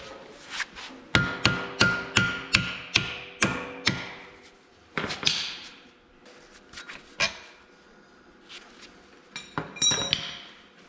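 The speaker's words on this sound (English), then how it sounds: "tap it with the hammer to get the bolt out without damaging the threads" Hammer blows tapping a worn bolt out of a front wheel assist axle on an 1855 tractor under restoration: a rapid run of about eight sharp metallic strikes, then scattered slower taps, close and loud with no talk.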